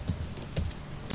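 Quick keystrokes on a computer keyboard while entering an email ID, a few soft clicks close by over faint room hiss, with no speech.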